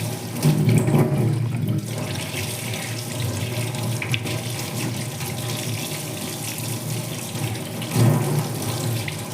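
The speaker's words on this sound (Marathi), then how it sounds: "टॅमॅटो आता याला आपल्याला धुवून घ्यायचं टॅमॅटोला" Tomatoes being washed under a kitchen tap, a steady stream of running water splashing into a sink, loud and close, swelling briefly near the start and again near the end.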